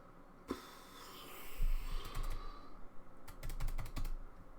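Fast typing on a computer keyboard during a coding session, a steady patter of key clicks with bursts of quick taps, fairly close and quiet, with no talk.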